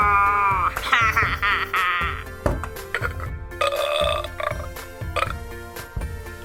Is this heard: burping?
yes